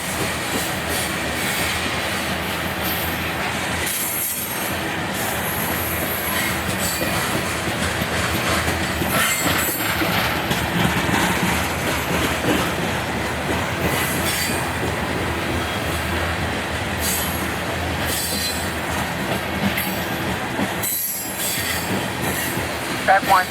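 A loaded BNSF coal train rolls past at Agency, Iowa, a loud, sustained roar of wagons with rhythmic clickety-clack and squealing wheels, close by, with brief dips as cars pass.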